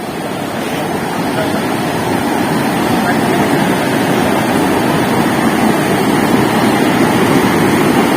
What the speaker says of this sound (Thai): น้ำไหลแรงมากเลยครับวันนี้